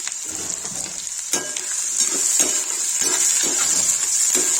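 Onions sizzle steadily in a pan with paneer that has already been fried, a close, bright hiss broken by the occasional scrape of a stirring utensil, with no talking.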